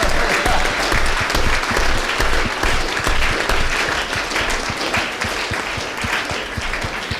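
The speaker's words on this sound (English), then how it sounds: "to just give you a round of applause would seem fairly inadequate" Sustained, dense applause from a large audience at a Liberal Judaism biennial gathering, loud and steady throughout with no talk over it.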